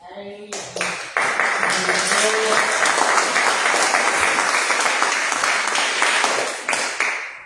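Congregation at a church service breaks into loud, sustained applause that swells quickly and holds steady for several seconds before tapering, with a few voices heard briefly at the start.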